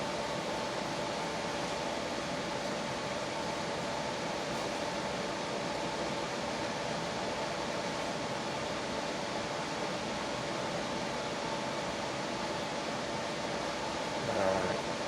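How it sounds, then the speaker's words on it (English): An air conditioner runs with a steady, even, moderately quiet whooshing hum that holds unchanged throughout, with a faint bump near the very end. "Please excuse the sound of the air conditioner. It just kicked on."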